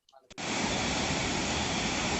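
Bisapu waterfall pouring in a constant, dense hiss that cuts in abruptly after a brief murmur of voices and then holds steady and loud.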